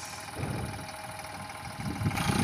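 Eicher 548 tractor pulling a fully loaded trolley on a village track, its diesel engine idling and knocking at a steady mid-pitched chug that swells louder toward the end, with no talk.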